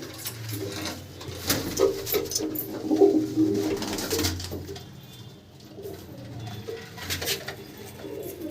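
Male tournament racing pigeons coo softly in repeated low bursts, close by, with scattered rustling and flutter in the background.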